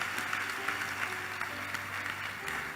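A church congregation claps together during a service, a moderately loud, even burst of applause with faint voices underneath.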